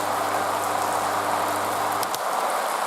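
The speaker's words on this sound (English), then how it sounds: "On. Rain starts instantly, but stops with no drips." Torrential rain from a sound effect, a steady dense hiss of falling drops at full strength from the very start, loud and continuous, with a steady low hum that cuts out partway through.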